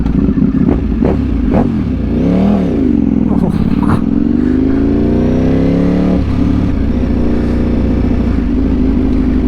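A new 2025 Ducati Panigale V4S motorcycle fitted with an Akrapovic exhaust idles loudly up close, then its engine is blipped and revved in rising and falling sweeps before settling back to a steady rumble, with a voice partly over it.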